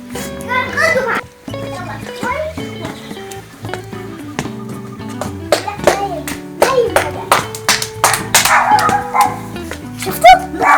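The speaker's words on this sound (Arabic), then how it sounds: "ننزل نشوف الكلاب." Dogs on a farm bark repeatedly in loud, close bursts, mixed with children's voices talking and some clapping throughout.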